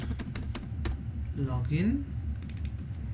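Typing on a computer keyboard, a scatter of sharp close clicks before and after a brief spoken phrase, over a low steady background hum.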